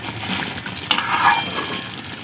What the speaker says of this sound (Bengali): এখন আমি খুলে দেব। নেড়ে দেব।